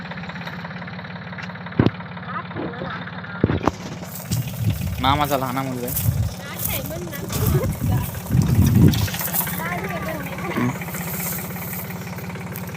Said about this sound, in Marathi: गडी अजून पण ट्रॅक्टर चालवतो